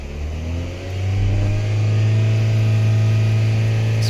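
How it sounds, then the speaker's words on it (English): A 2014 Chevrolet Sonic 1.8 engine, recovering from intake and lean faults, revs up from idle and holds a steady raised RPM, its loud drone close and continuous without talk. "We can see we raised the RPM up."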